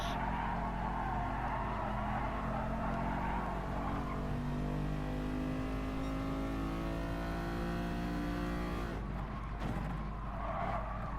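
A race car engine in GT Sport at the Tsukuba circuit revs up through gears with climbing tones, then drops sharply with tire squeal and skidding before accelerating again.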